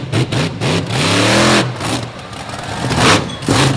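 A Stomper truck called Lethal Threat revving hard at a destruction event, its engine climbing and falling in loud, close surges broken by brief dips, with crowd and arena noise beneath.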